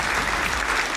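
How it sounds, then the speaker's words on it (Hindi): Audience applause at a company anniversary event on stage, steady dense clapping from a crowd throughout, loud and continuous with no talk. "जोरदार तालियों के बीच में।"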